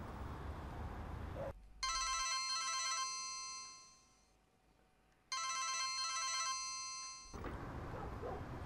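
A telephone rings twice in long electronic trills separated by a pause, fairly close and clear, with no one speaking.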